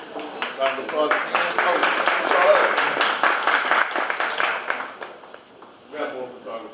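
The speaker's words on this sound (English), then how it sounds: "Round of applause again." An audience at a talk event claps again in a loud, steady round of applause lasting several seconds, with voices mixed in, before it fades and briefly swells once more.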